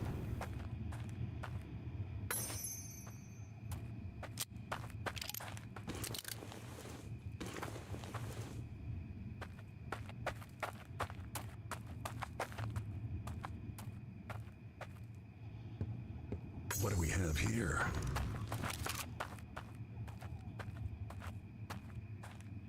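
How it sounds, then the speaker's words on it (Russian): Footsteps in the horror video game Blood West, a steady run of close, clip-clopping steps on hard ground that repeats throughout, with a brief spoken remark over them. "Видимо, это были мои собственные шаги."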